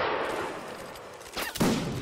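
A musket volley in Mount & Blade: Napoleonic Wars erupts as a loud, rolling crack of many shots late in the moment, following a noisy battlefield din.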